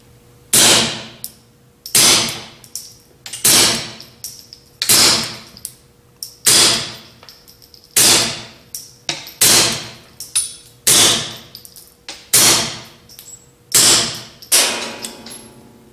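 Suppressed shots from an original 22Sparrow suppressor on a Walther P22 pistol crack out as about eleven sharp reports, spaced roughly a second apart, each with a quick decaying tail.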